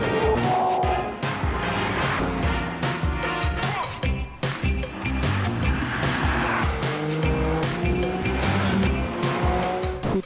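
A Porsche 718 Cayman GT4 with a manual gearbox revs hard on track toward 8000 rpm, its engine howling loudly and continuously, the pitch rising and falling through gear changes, with brief tire squeal.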